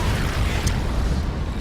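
Nukes detonate on a command center in a 3v3 real-time strategy game, heard as a loud, sustained low rumbling blast that fills the whole moment with dense booming.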